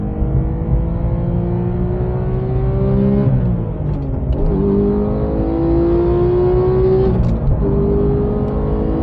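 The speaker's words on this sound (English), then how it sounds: "Hard on the brakes, downshift to 3rd, heel and toe downshift." A race car on track brakes hard with heel-and-toe downshifts into third. The loud, steady engine drone dips in pitch and then blips back up at each downshift, near the four- and seven-second marks.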